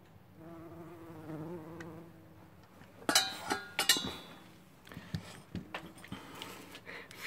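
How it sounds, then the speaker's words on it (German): A bumblebee buzzes with a steady low drone during the first three seconds, followed by sharper clicks, knocks and rustling handling noises close to the microphone. "Fleißiges Hummelchen."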